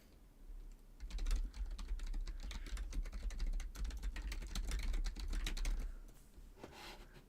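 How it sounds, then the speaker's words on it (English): Rapid clicky keystrokes on a computer keyboard, a dense close run of taps lasting several seconds after a quiet start, then tapering off. "Typing ASMR."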